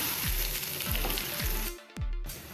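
Tomatoes frying in a pan for a broccoli bhaji, a close steady sizzle with a few rhythmic stirring scrapes, briefly dropping out near the end before resuming.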